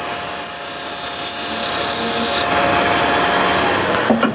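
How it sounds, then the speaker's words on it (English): Bevelled hand scraper taking a very light pass across a turned wooden piece: a steady, close, hissing scrape that drops off halfway through, followed by fainter rasping and a few small knocks. No one speaks. "just really light scrape."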